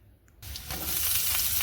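Chopped garlic hits hot mustard oil in a pan and erupts into a loud, bright sizzle after a brief quiet moment, the frying building and holding steady close by.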